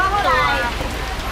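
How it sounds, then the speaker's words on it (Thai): Heavy rain pours steadily in rural Thailand, a dense hiss of drops on surfaces, with a voice briefly talking over it at the start. "heavy raining"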